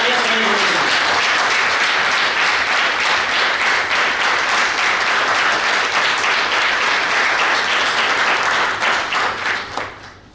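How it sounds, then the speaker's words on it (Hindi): Dense, sustained audience applause fills a hall during a live talk event, steady and loud for about nine seconds before tapering off at the end. "तो फिर एक बार जोरदार वापस से तालियां"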